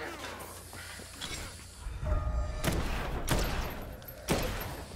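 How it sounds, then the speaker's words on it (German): Several sharp gunshots from the video game Dead Island 2 crack out at irregular intervals over a low rumble of game ambience, moderately loud and close. "Ich wollte trotzdem mal auf dich schießen."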